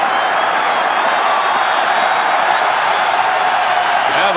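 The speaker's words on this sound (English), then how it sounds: "Now the roar of the crowd as they get caught up and everything" A dense, steady roar from a baseball stadium crowd at the 1979 World Series in Baltimore, loud and continuous throughout, a broad wash of many voices cheering with no single voice standing out.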